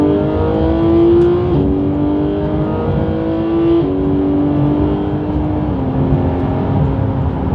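A Porsche GT3 with a PDK gearbox accelerates hard and close, its engine note climbing steadily and dropping at several quick upshifts. It is loud and continuous, with no talking.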